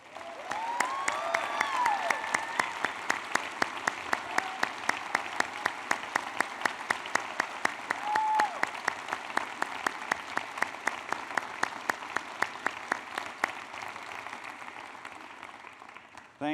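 A college commencement audience gives the faculty sustained, even applause, a dense wash of many hands clapping for over fifteen seconds. Occasional faint voices and whoops rise above it.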